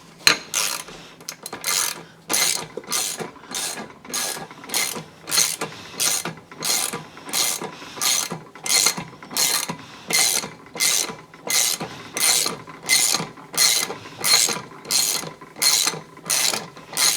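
A ratchet tightens the prop nut on a Mercury 90hp outboard lower unit, giving close, loud, evenly spaced clicking strokes, roughly twenty in a steady back-and-forth rhythm.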